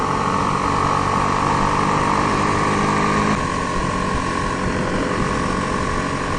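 A 2018 BMW G310R motorcycle engine winds up with a loud, buzzy, steady drone during a ride, mixed with wind rush, and the tone shifts lower about halfway through.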